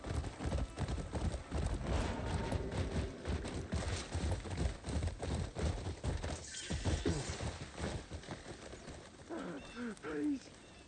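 Hooves of a galloping horse ridden in a video game, a steady rapid clip-clop running throughout with a whinny, close and prominent, while someone speaks over it.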